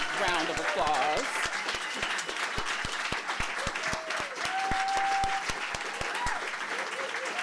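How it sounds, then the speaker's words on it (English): An audience at a Poetry Out Loud 2023 recitation competition gives a long round of applause, dense continuous clapping from many hands throughout, with voices faintly mixed in. "give these young people for round one and round two a rousing round of applause"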